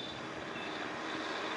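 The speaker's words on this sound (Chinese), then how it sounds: "飞机即将返航" GLF agricultural spray drone in flight, a steady, fairly close whirring drone of its rotors heard alone for a brief moment.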